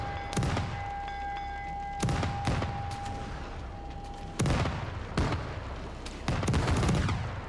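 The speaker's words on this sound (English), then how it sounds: "And the British boat returns fire." Cannon and musket fire from pirate and British frigates in the video game Nassau 1715 comes as six or seven heavy booming shots at irregular intervals, echoing over a low background rumble.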